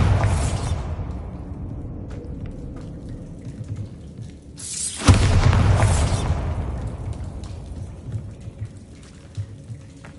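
A Bombarda exploding spell in Hogwarts Legacy bursts with a sudden booming blast midway, over a low, rumbling, rain-like ambient wash that fades out afterwards.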